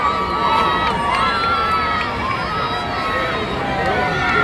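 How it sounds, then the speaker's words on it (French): A large, dense crowd cheers and shouts outdoors at the Pope's arrival in Congo, a constant close roar of voices with whistles and high calls layered throughout. "Foule de monde."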